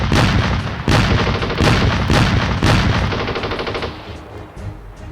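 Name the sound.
machine gun and mortar fire in war documentary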